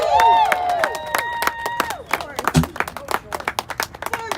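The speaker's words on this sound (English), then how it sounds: "Everyone, give a round of applause for Brianna Joy Gray." A rally crowd breaks into clapping and applause, starting under a voice speaking and then thinning into scattered, uneven claps, with a brief thump near the middle.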